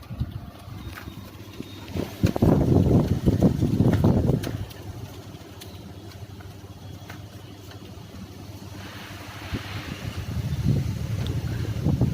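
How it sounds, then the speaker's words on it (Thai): Strong wind blowing outdoors ahead of a storm, with no rain yet; loud broadband gusts rise and fall, peaking early, easing to a steady rush, then surging again near the end. "อันนี้แค่ลมนะครับยังไม่มีฝนนะครับ"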